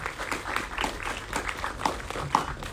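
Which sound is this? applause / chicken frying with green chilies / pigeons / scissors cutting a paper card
applause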